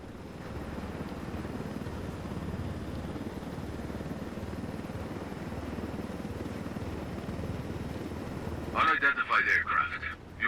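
Low-flying helicopter threading a canyon in Tom Clancy's Ghost Recon Wildlands, a steady rotor drone with engine rumble that holds throughout, with a burst of louder chopping near the end.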